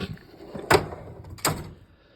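A drawer on a car mechanic's metal tool box slides and clunks twice, two sharp rattling strokes close by with quiet handling noise between them.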